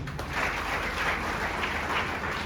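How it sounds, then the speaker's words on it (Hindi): Applause from a seminar audience in a hall, a quiet, even wash of clapping heard from a distance and lasting about two and a half seconds. "इसके लिए जोरदार ताली।"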